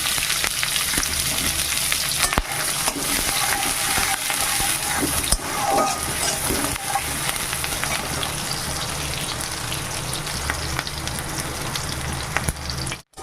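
Onion and chopped green chilli fry in hot oil in a kadai, a dense, loud, continuous sizzle with occasional stirring knocks and no talking.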